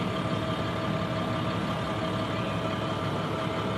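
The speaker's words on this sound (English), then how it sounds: "a 2010 International Workstar with the max horse engine in it" A 2010 International WorkStar garbage truck with a MaxxForce engine idles, heard from inside the cab as a steady, even diesel rumble with no other sounds.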